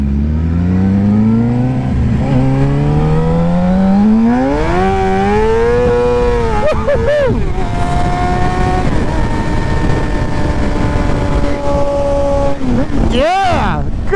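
A Suzuki GSX-R 750 motorcycle accelerates hard out of an intersection and drifts sideways, its loud engine note climbing through the gears in rising sweeps, close up and steady, with brief drops between shifts and no talk over it.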